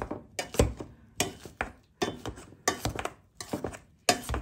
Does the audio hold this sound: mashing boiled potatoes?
yes